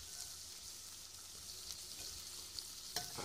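Potatoes and garlic hit hot oil in a frying pan for a Spanish squid-and-onion dish, giving a steady close hiss of sizzling with a few sharper crackles and pops near the end.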